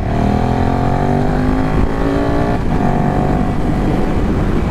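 A 2018 KTM Super Duke GT motorcycle accelerates hard on an open road, its engine roaring loudly and close with rising pitch through the gears and steady wind noise.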